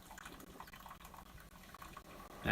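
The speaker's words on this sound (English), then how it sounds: "That noise you're hearing is actually my coffee maker." A home coffee maker brews with soft gurgling and bubbling liquid sounds, quiet and steady in the background, ending in a brief louder burst of hissing or gushing water.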